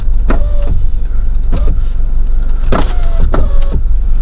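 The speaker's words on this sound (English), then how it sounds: "So I'm gonna crack the window just a little bit." Mini Cooper power window motor whirring in several short bursts as the window cracks open slightly, close and clear inside the car with steady road or engine rumble underneath.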